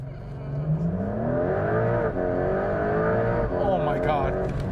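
A Porsche 911 GTS T-Hybrid pulls hard under acceleration from inside the cabin, its engine note climbing steadily through the revs in one long loud sweep, briefly dipping at a gear change before rising again.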